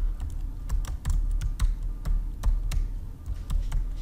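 Computer keyboard typing, a quick irregular run of crisp key clicks close to the microphone over a low background hum, with no speech.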